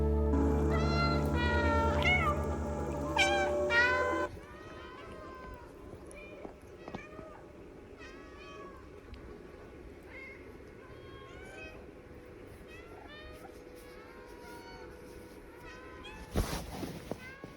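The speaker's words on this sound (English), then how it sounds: "You can also meow whenever you want, and because the cats are a hive mind, all the other stinky babies will meow back at you." Cats meow in the video game Stray, first a loud, close cluster of meows over a musical passage, then scattered soft distant meows answering in a quiet setting, ending with a sudden louder burst near the close.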